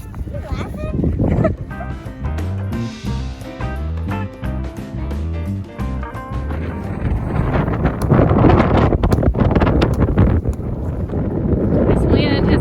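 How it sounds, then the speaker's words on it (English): Strong wind gusts roar across a snowy trail at Lily Lake in Rocky Mountain National Park, a broad steady rush that builds louder in the second half, with people talking over it. "This wind has gotten crazy."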